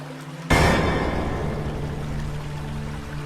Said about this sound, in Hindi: संताजी पास के महादेव मंदिर के झरने में स्नान करने का विचार किया।